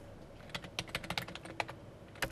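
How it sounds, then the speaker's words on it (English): A username is typed on a computer keyboard, a quick irregular run of soft clicking keystrokes, close and quiet, with no talk over it. "So first thing you do is type in the username"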